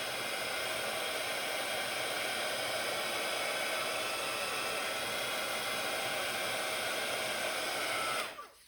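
A hair dryer blows steadily on a craft project, a constant loud whooshing roar that runs uninterrupted for about eight seconds before switching off abruptly.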